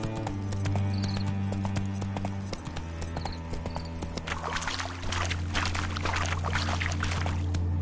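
Roach, Geralt's horse in the video game The Witcher 3, clip-clops along in a steady walking rhythm of hooves, close and clear over a low droning ambient score with no talk.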